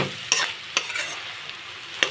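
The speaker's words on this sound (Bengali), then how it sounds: "আমি কয়েক টুকরা আলু একটু ভেজে দেবো, দিয়ে পুরোটা মিশিয়ে নেব। একটু নেড়ে চেড়ে" Potato pieces fry in fish oil with cabbage in a pan, stirred so the spoon scrapes in a few sharp knocks over a soft continuous sizzle, close by, with no one speaking.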